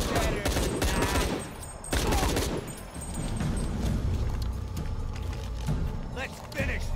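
Gunfire in Shadow of the Tomb Raider, dense and continuous for about two seconds, then easing into mechanical clatter and further shots, with game sounds throughout.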